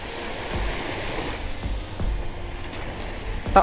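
Soft, steady rush of moderate sea waves washing onto Wong Amat beach in Naklua, Pattaya, with gentle surges and low rumble, fairly distant and calm.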